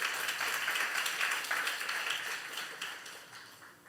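Clapping from a church congregation at a youth service fills the space as a dense, steady wash that slowly fades toward the end, with no voices over it.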